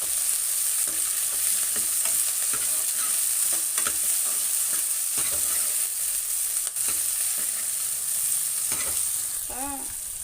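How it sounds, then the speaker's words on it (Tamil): Curry leaves and coriander sauté in a pan with tomato for a dried-fish curry, giving a steady close sizzle of frying broken by the repeated scrape and clack of stirring. "கருவேப்பிலை, கொத்தமல்லி போட்டுக்கிறேன். நல்லா வதக்கிக்கலாம்."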